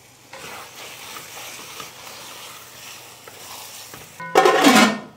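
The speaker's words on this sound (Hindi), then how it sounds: "अच्छे से चला लेंगे। और मिलाते हैं स्वाद अनुसार नमक," Quiet scraping of a spoon stirring Hyderabadi korma in a pan, then a sudden loud sizzle near the end as something hits hot oil.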